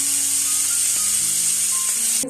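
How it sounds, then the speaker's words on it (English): Garlic butter steak sizzles in a pan over very low heat, a loud, constant frying hiss with faint low hum beneath, steady from start to finish and free of talk. "As our steak is cooking under very low heat"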